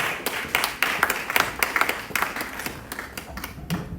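An audience at a Black History Festival media launch applauds the arrival of a network CEO, a dense patter of many hands clapping at close range, fairly loud and steady throughout.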